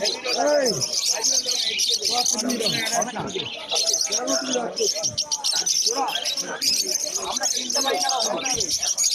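Many caged birds at a bird market on Galiff Street in Kolkata, dense overlapping chirps, whistles and squawks close by, steady and busy throughout.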